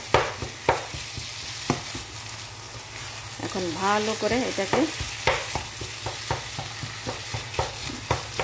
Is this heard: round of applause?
no